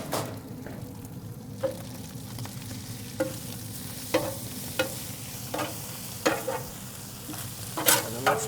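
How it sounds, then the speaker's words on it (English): Onions being stirred on a hot griddle alongside brisket, a steady sizzle broken by repeated scraping spatula strokes at regular intervals, close and clear with no talking. "we're gonna throw our onions back in here. Just gonna mix them up to warm them up."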